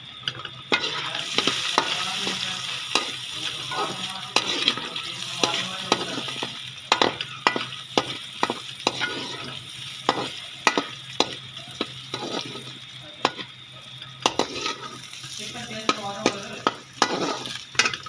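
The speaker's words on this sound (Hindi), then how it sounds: "मेरी जा रही है गाजर, थोड़ी सी इन्हें फ्राई करूँगी।" Carrots fry in a hot pan for a Punjabi-style macaroni dish, giving a steady close sizzle broken by frequent sharp scrapes and clinks of a utensil stirring against the pan throughout.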